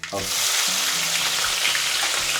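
Chopped green chillies hit hot oil with cumin for sabudana khichdi, setting off a loud, steady, close sizzle that holds for the whole stretch with no talking.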